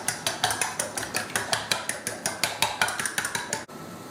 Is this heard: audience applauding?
no